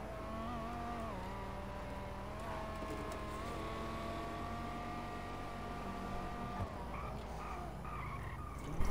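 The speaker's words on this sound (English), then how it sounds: "I like the sound of this car." A car engine in GTA 5 Online drones steadily with harmonic tones that rise and fall as it accelerates, with tire skidding, continuous and fairly close, with no talking.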